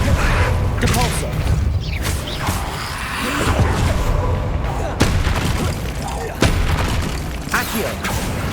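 Depulso force spell cast in Hogwarts Legacy, a video game, comes through as dense booming thuds and crashes over a steady low rumble, with sharp bursts near 5 and 6.5 seconds amid constant game noise.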